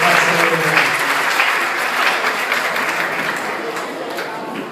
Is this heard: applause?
yes